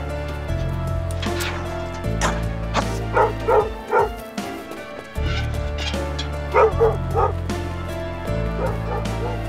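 Dogs barking and yipping repeatedly in short bursts, with some whimpering, heard over a steady musical background, fairly close and clear.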